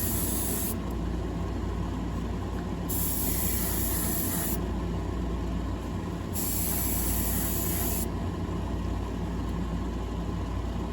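An aerosol spray can mists paint over a model car in steady, continuous hissing that runs through the whole stretch, with a few faint breaks and no voices.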